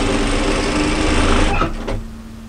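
Sewing machine stitching fused curly jacquard nylon merino knit fabric, a loud close rapid whirring run lasting about a second and a half, then stopping with a short burst after.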